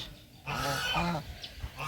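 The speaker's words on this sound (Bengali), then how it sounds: "এই যে ভক্তর রাজহাঁস" A swimming domestic goose gives a loud, nasal honk at close range, a brief harsh call followed by a fainter second one.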